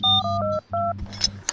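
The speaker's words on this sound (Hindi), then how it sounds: "कौन फोन कर रहा है अभी?" Phone tones sound close and loud, several short electronic beeps in quick succession with brief gaps, ending in a scatter of small clicks.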